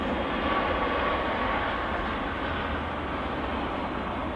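EasyJet Airbus A320 jet from Gibraltar arriving at Manchester Airport, a steady broadband engine roar held at constant loudness throughout, with a faint tonal whine riding on top and no voices.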